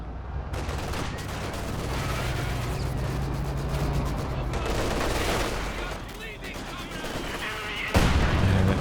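Mortar pits fire in Company of Heroes 2 amid a dense battle, with steady gunfire and booming impacts layered together and a loud blast near the end, while a commentator talks over it.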